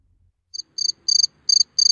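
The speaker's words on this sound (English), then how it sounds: "Listen to the sound of the cricket." A cricket recording plays back, giving five short bursts of high trilling chirps that grow longer and more regular over a silent background.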